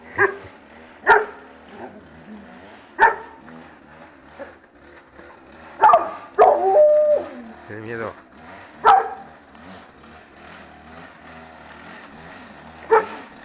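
A frightened dog barks in sharp, isolated bursts scattered over several seconds, with a couple of yelping, whining cries in the middle, while a person speaks briefly nearby.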